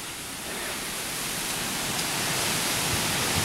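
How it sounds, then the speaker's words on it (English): Heavy rain falling during a storm in Harrisburg, South Dakota, a steady broadband hiss that grows slightly louder throughout, with no other sounds. "Much needed rain."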